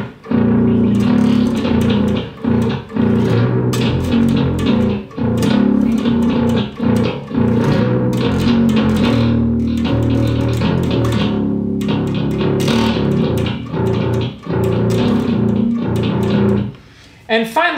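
Electric guitar on the neck pickup, played through a Darkglass Ultra distortion with its Fat EQ engaged, gives a thick, loud, sustained distorted sound with steady riffing and brief pauses.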